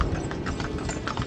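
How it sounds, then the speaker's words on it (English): Steady clip-clop of horse hooves pulling a tartanilla, a traditional Filipino horse carriage, near an old church in Boljoon, Cebu, with quick repeated strikes over a continuous rolling rumble, close and moderately loud. "we're already on this Filipino carriage or the horse carriage"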